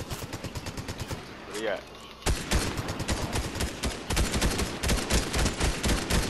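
Rapid bursts of automatic gunfire in a Fortnite match rattle in quick repeated volleys, loud and close, with a brief pause before heavier firing resumes; a player speaks briefly over it.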